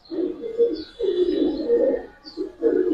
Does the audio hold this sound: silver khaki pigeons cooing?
yes